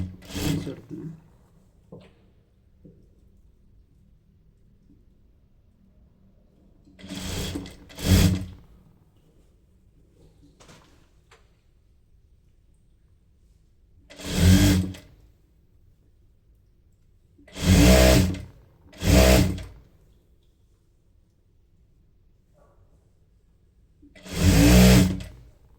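A sewing machine stitches nighty frock fabric in four or five separate short bursts of whirring, each lasting about a second, with quiet pauses between them and no talk.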